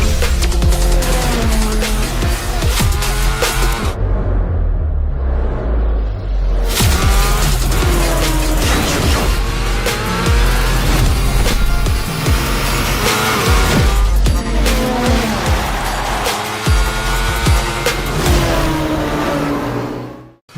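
A 2025 TVS Apache RTR 204V motorcycle engine roars and revs loudly through a commercial, with racing-style tire squeal and dense music layered throughout, pausing briefly near the start before surging again.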